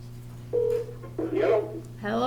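Telephone keypad tones beep in short steady bursts at a township board meeting, several presses heard over a constant low hum, with a voice speaking in between.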